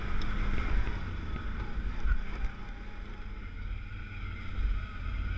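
A 2013 Can-Am XMR 650 ATV rumbles along a trail, its engine a steady low drone blended with rushing wind noise across the microphone, recorded close from the rider's seat.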